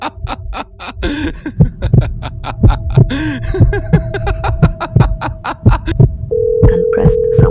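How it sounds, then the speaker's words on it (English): Keys on a cell phone in an animation beep as a number is dialed, a quick series of short electronic tones that ends in a long steady tone, with a few chuckles mixed in. "And pressed someone's number."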